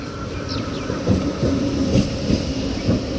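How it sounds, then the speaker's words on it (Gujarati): A train arriving at a station rumbles past steadily with low, heavy rolling noise and faint squeals and rattles, fairly loud and close. "આ ટ્રેન આવી ગઈ છે"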